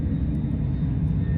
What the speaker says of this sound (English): as you can hear, that's a plane flying over